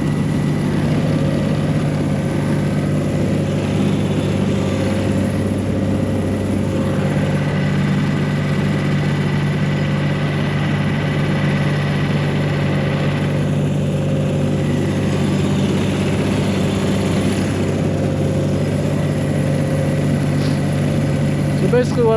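A John Deere tractor engine runs at a steady low rumble as it drives up a snowy driveway, constant and close throughout, with faint fluctuations.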